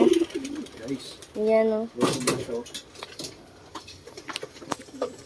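Racing pigeons cooing softly near a person as they are fed, a short tonal coo mid-clip amid rustling and clatter, with a voice speaking briefly.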